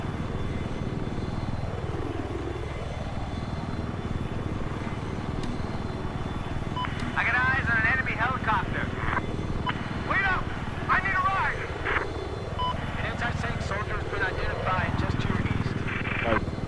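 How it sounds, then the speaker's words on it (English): An enemy helicopter in a video game thrums continuously, its rotor pitch sweeping down and back up twice as it passes, with game beeps and voices talking over it. "Spotted. Enemy helicopter."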